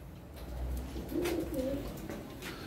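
Pigeons in a coop at a pigeon shop in İzmit, Kocaeli, give a few low, soft coos against steady background noise, with no one speaking.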